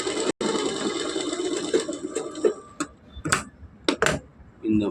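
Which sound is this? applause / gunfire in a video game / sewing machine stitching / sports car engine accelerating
sewing machine stitching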